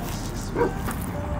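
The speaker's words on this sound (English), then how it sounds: "There's a big dog right there." A big dog near tents outdoors lets out a single short bark, fairly faint over steady background noise.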